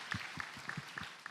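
A church congregation claps in a steady, moderately paced rhythm, several even beats of applause heard from a short distance with no voices over it.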